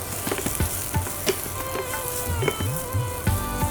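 Okra sizzles in hot oil, a busy crackling fry with rapid pops and bursts of bubbling close by, steady throughout with no voices.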